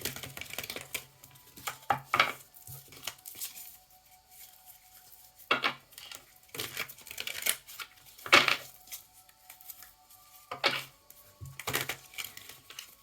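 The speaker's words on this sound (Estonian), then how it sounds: "Nüüd segan korraks kaart." A deck of tarot cards is shuffled by hand, giving irregular crisp riffles and flicks in scattered bursts with quiet pauses between them, close by and moderately loud, with no speech.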